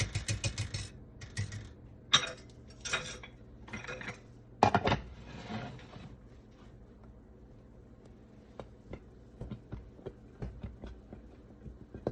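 Southern-style grits being stirred in a pot, with a spoon knocking and scraping against the pot in quick clattering bursts, close, then a few sparse light taps.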